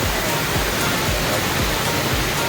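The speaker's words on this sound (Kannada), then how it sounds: "ಅಚ್ಚಕನ್ಯೆ ಅಂತ ಫಾಲ್ಸ್ ಇದು." The Achakanya waterfall in dense Western Ghats forest near Arالasurali village, Thirthahalli, roars as a loud, steady rush of falling water that fills the whole stretch, with a voice faintly underneath.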